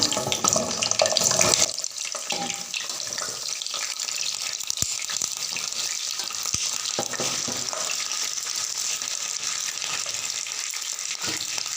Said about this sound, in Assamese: এতিয়া মই পটলখিনি তেলত দি দিম।